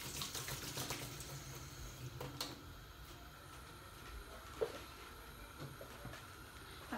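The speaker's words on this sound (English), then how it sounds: "Wash my hands." Water runs steadily from a kitchen tap as hands are washed under it, a continuous soft hiss with a few faint knocks and clicks, no talking.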